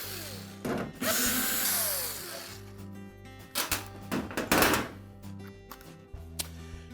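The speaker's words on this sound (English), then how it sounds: "We're going to remove 3 more 1/4" screws across the bottom of the access panel." A driver backs out 1/4 inch screws from the bottom of a Maytag dryer access panel, a long whirring spin followed by several short bursts and clunks, close by with no talk.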